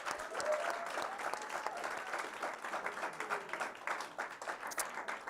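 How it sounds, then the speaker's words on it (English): Audience at a TSIBA graduation ceremony breaking into a dense, sustained round of applause, steady and fairly loud throughout with no voices standing out. "A big round of applause to our TSIBA staff"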